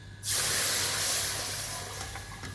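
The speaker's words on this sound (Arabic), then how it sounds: "في المرحله دي بقى نحط ايه، نحط اللبن" Milk being poured all at once into a hot flour roux for béchamel, a sudden steady rushing hiss that starts sharply and holds for over two seconds, close and moderately loud.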